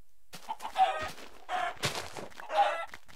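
Several short, bursty clucks from a Minecraft chicken come in quick, uneven succession, close and fairly loud, with brief pauses between the calls and no talking.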